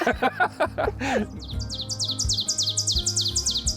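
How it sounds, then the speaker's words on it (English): An ovenbird sings its repeated teacher-teacher call from a ground-dwelling warbler, a rising series of sharp, evenly spaced chirping phrases. The song enters after a man's speech, with low voices and rumble continuing underneath. "So you know the ovenbird, teacher, teacher, teacher."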